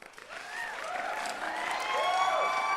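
Applause on a magic livestream, mixed with rising and falling whistle-like tones, swells steadily louder over a few seconds with no one speaking.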